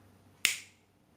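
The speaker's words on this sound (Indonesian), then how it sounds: "coba sekarang kalau saya pakai jentikan jari" A single sharp finger snap close to a small robot's sound sensor, a crisp click that decays quickly over a faint steady hum in a quiet room.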